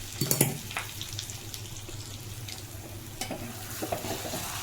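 A vegetable curry with a chilli tempering is stir-fried in a pan, with a steady, fairly faint sizzle and a few spatula scrapes, a louder clatter at the start.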